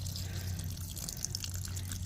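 Fermented banana peel water is poured from a jar onto potted tomato plants outdoors in hot weather, giving a steady splashing, trickling flow with scattered drips over a low background hum.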